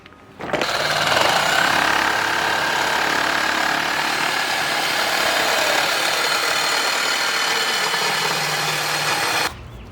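Power saw cutting through the exhaust pipe of a 2022 Toyota Tundra short bed during an MBRP exhaust install, a loud, steady grinding whine running continuously for about nine seconds before stopping abruptly.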